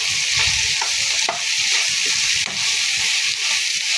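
Tempering for lemon rice fries in a hot pan, a steady loud sizzle and hiss with occasional stirring scrapes, no voices over it.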